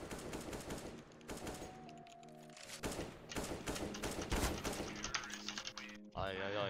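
Rapid automatic gunfire sprays in a Counter-Strike match, loud and dense throughout with short bursts and clicks, while voices and in-game chatter run underneath.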